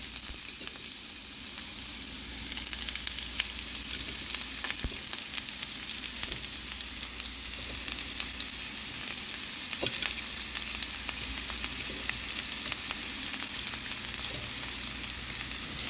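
Onions frying in grapeseed oil in a pan, cooked low for caramelizing, with a steady, fairly quiet sizzle crackling continuously throughout, with no speech.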